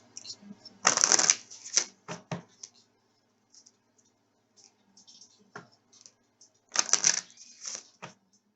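Tarot cards are shuffled in two brisk riffling bursts separated by scattered soft taps and card handling, close and fairly quiet.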